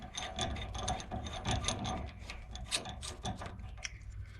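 A replacement inner tie rod on a 2006 Toyota Tacoma 4x4 is threaded on by hand, giving close, faint metallic scraping and rubbing in short irregular bursts.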